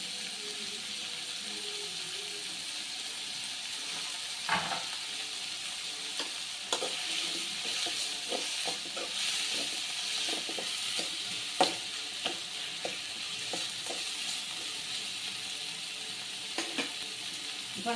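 Curry leaves and coriander frying in hot oil, a steady broad sizzle throughout with occasional sharper pops and crackles, close and alone.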